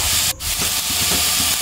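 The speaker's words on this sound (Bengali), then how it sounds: "দিয়ে এটাকে আমি ভালোভাবে একটু নাড়তে থাকবো।" Capsicum, tomato and other vegetables being stirred in a frying pan, a short close burst of sizzling and scraping with no talk.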